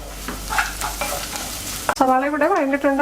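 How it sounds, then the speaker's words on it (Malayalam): Onions sauté in a pan with a soft crackling sizzle for about two seconds, then a sudden sharp clatter and a ringing metallic tone, likely the pan or a lid being handled; no one talks. "സവാള ഇവിടെ വഴണ്ടിട്ടുണ്ട്."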